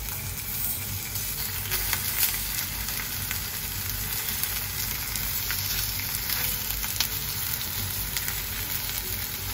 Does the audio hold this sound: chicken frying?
yes